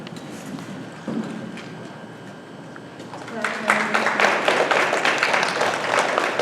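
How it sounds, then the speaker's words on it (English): Audience at a junior honor society school induction bursts into loud applause partway through, after a quieter stretch of shuffling and faint talk, with dense clapping that continues to the end. "Please stand up for a round of applause."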